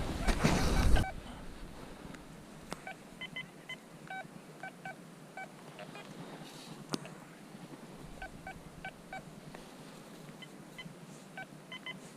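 A metal detector on a beach gives repeated short electronic beeps in pairs and bursts over a quiet hiss, with a brief rustle at the start.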